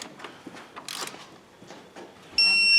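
A ratchet tightens the control arm and tie rod end nuts on a GMC/Chevy 1500, making short bursts of clicking strokes with pauses between them, followed by a sustained high electronic tone at the end.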